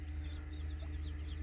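A hen sits with chicks hatching from her eggs, faint repeated high peeps and soft clucks rising over a steady low background hum.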